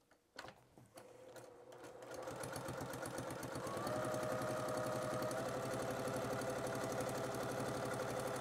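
A sewing machine stitches a fabric composition book cover, starting with a few quiet clicks and then settling into a fast, steady mechanical chatter that grows louder and runs continuously up close.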